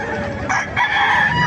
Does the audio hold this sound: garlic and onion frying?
no